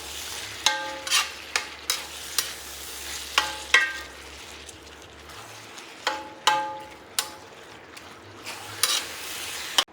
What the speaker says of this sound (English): Then we're going to start stirring all this stuff in.